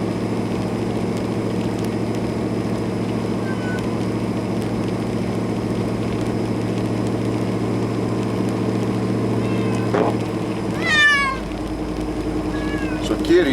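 Black house cat meowing a few times near the end, brief close mewing calls over a steady low hum and faint background voices.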